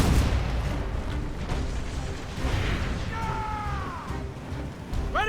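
Ship cannons firing during a naval battle in the Assassin's Creed Rogue video game: a continuous rumble of booms and blasts, with brief whistling tones near the end.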